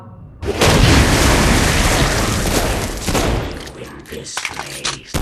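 A loud explosion in Saints Row: Gat Out of Hell booms and roars for several seconds, then fades into scattered crackling gunfire and debris.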